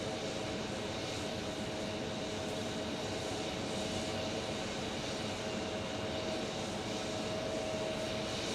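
Alaska Airlines Boeing 737 jet engines at Phoenix Sky Harbor airport, a steady distant whine and rumble with a faint tonal hum, holding at an even, moderate level throughout.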